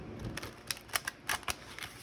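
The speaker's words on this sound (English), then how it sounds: "So I'm going to shuffle these like a couple times" Tarot cards being shuffled a couple of times give a quick series of crisp, close riffling clicks and flutters in uneven bursts.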